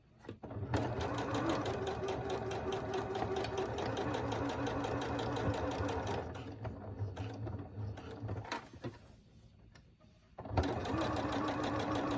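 A sewing machine stitches fabric in a continuous mechanical whir, pausing briefly near the end before starting up again, loud and close.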